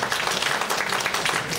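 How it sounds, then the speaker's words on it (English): Steady applause from a crowd at a community meet-and-greet event in an Elks lodge hall, dense continuous clapping at an even level throughout, with no voices standing out. "We appreciate applause"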